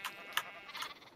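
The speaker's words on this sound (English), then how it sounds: "I have so many sheep." Short, bright bleats from a few sheep in a video game, one sharp and loud, others softer, repeating quickly in a synthetic game-like tone.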